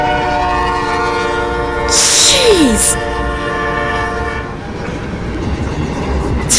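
A train horn blares loudly with a falling pitch as the train passes a crossing, over a steady rumble of rail cars, while a man reacts with an exclamation.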